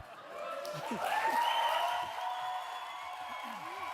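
An audience applauds after a keynote speech at an Indigenous Liberation Day event, moderate clapping with some cheering and scattered voices, swelling then easing off.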